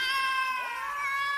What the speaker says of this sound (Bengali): ওই শোনো ভাই, বিড়ালগুলো কাঁদছে অনর্গল।